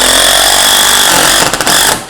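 A Dewalt Atomic 20V MAX brushless impact driver drives a number 12 tech roofing screw into hardwood with loud, dense, continuous hammering, close by, then stutters briefly and stops.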